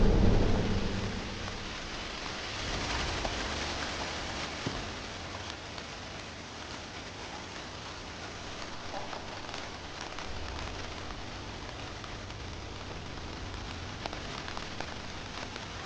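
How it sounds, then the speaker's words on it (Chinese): Steady rain falls with a dense, even hiss, joined by a low rumble of thunder at the start, continuous and fairly close throughout, with no voices. "下雨了"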